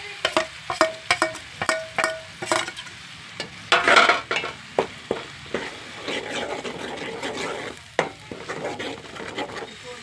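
Poppy seed paste with onion paste fried and stirred in a pan for a home-style curry, with soft sizzling under repeated scraping and clinking stirs, close and steady without any talk.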